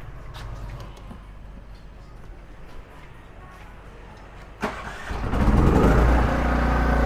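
Eurox Gold JI6502 silent inverter generator started by remote, quiet background at first, then a click and the engine catching around the five-second mark, settling into a loud steady running drone.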